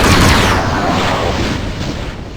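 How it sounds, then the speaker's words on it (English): A laser rifle fired in the Doom video game, acting like a rapid-fire railgun: a loud, booming blast at the start with a long, rumbling decay that fades over a couple of seconds. "it is now time for the laser rifle"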